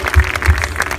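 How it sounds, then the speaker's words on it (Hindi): Audience applause at a ceremony honouring a couple, a steady wash of clapping with a couple of louder swells, fairly close and continuous with no talk. "A very big round of applause for Mr. and Mrs. Saxena."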